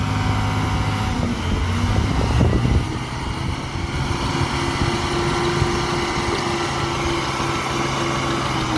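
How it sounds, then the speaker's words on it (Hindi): A dump truck engine runs steadily at a road construction site while it unloads, a loud continuous rumble with a brief surge of heavier mechanical noise early on before it settles back to a steady drone. "यहाँ पर गाड़ी खाली करवा रहे हैं"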